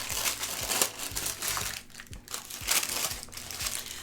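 Tissue paper crinkles and rustles as a Glossybox April 2022 beauty box is unwrapped, a close, steady crackling with a few sharper crunches, with no talking.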